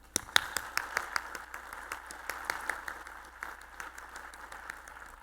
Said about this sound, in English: If you work in the water treatment industry, clap your hands.